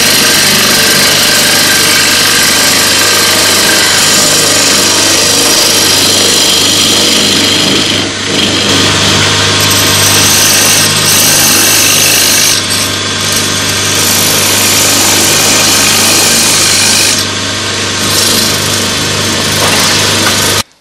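Woodturning lathe tool cutting across the bottom of a wooden piece, a loud, continuous high-pitched grinding whine with a steady hum, broken only by brief dips as the cut eases.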